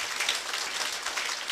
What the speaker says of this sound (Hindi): मैं चाहता हूँ उनके सम्मान में एक बार जोरदार ताली हो